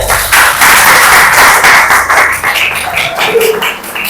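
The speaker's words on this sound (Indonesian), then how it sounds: "Tepuk tangan dulu buat orang tadi ya." Students in a classroom clap together for a few seconds in a fairly loud, steady burst of hand claps that thins toward the end, with a little background noise.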